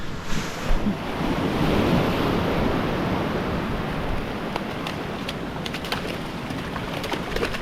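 Ocean surf churns and crashes steadily on rocks nearby in New Zealand, a broad rushing roar of breaking swell with wind buffeting the microphone.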